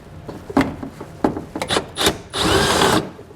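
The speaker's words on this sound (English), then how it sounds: "We're able to drill through the rivet to get the two pieces separated." A drill grinds in short bursts against a metal rivet, then runs in one sustained whir for about half a second, close and loud, while fitting a base plate kit to a 2012 Ram 1500 pickup.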